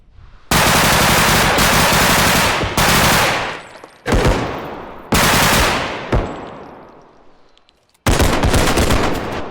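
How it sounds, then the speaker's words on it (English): Extremely loud automatic gunfire from the video game Bodycam, several long sustained bursts that cut off abruptly with short gaps between them, close and dominant with no talking. "Just how realistic the game is, because the gunfire is like extremely loud on it."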